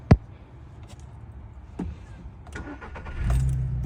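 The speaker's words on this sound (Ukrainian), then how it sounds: "Запустимо на двигун." A 2010 Volkswagen Golf 6 1.6 MPI petrol engine cranks and catches near the end, settling into a low rumble after a brief click and some faint handling noises.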